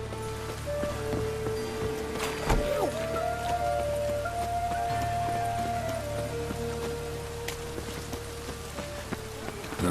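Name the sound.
rain in the video game The Witcher 3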